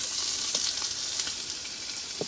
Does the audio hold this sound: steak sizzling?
yes